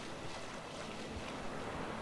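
Wind rushes and waves wash steadily around a sailboat on open water in The Witcher 3, a constant close, full-bodied roar with no pauses.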